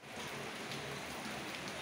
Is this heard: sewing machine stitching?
no